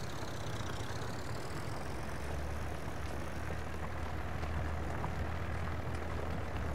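A tractor engine pulling a small two-furrow plough across a field in a wilderness survival game, a steady low droning hum that runs evenly throughout with no breaks and no talk over it.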